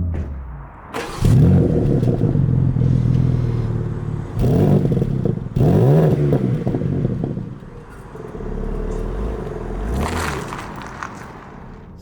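A BMW M2 on its first drive starts up and pulls away, its engine rumbling and revving in rising surges with a few clattering bursts and a steadier drone between them.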